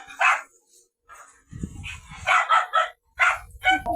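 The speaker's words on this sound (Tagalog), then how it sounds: "Napakaingay po ng alagang aso ni Medit." A pet farm dog that guards the pigs barks loudly and close by in several sharp bursts with short pauses between them, with no talking.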